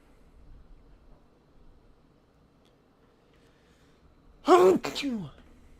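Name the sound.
sneeze into microphone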